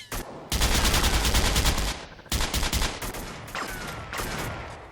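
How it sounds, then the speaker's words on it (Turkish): Rapid bursts of automatic gunfire from the GTA Vice City video game, two long loud volleys broken by a short pause, then lighter scattered shots trailing off, with no talking over them. "Boşuna mermi yakıyorum gel."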